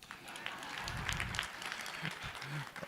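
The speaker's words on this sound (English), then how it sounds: "A round of applause for us." Faint, distant applause from a crowd, a steady patter of clapping with a murmur of voices underneath.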